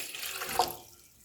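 Water runs from a tap into a glass for making tandoori-style tea at home, a brief soft gush that swells and then tapers off, close and quiet.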